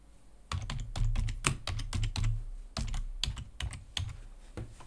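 Fingers tap out an email address and password on a computer keyboard, brisk clusters of crisp clicks close by, then a short pause and another rapid burst of keystrokes.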